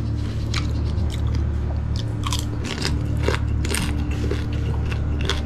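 Crunchy lechon kawali being bitten and chewed close up, loud crisp crackling crunches repeating in an uneven rhythm over a constant low background hum.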